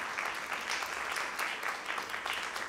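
Audience applause for a guitarist, heard as steady, dense clapping from a crowd at a French music event, continuous and moderately loud throughout.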